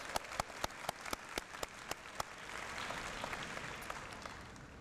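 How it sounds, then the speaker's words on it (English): Graduates are applauded at the University of Waterloo's 105th Convocation, opening with sharp, evenly spaced single claps before a wider crowd joins in with a steady, distant wash of clapping. "Let's give them a nice round of applause"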